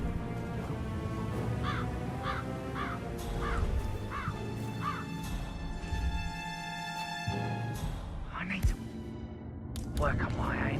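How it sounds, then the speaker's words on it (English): Crows cawing in Hitman 3's Dartmoor setting, a run of repeated harsh caws over steady game ambience, with a person talking over part of it. "I'll never get rid of those stupid birds."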